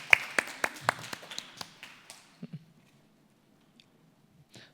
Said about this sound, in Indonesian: Baik, kita berikan tepuk tangan.